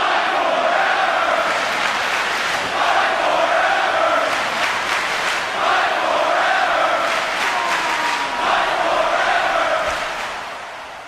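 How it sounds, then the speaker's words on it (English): Wrestling crowd roars and cheers throughout a cage match, a dense continuous wall of noise with rising chants and swells, loud and close, fading slightly at the very end. "the crowd deep into this one"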